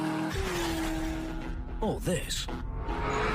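A Chevrolet Corvette C6 ZR1 with its 638-horsepower GM engine revs hard as it accelerates, its engine tone rising, and brief squealing tire chirps cut through near the middle. Someone speaks over the engine at the start.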